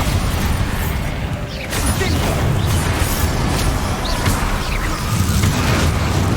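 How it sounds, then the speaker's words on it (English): Spell combat in Hogwarts Legacy as a Bombarda spell explodes, loud sustained rumbling blasts and crashing debris, with voices calling out amid the noise. "Bombarda!"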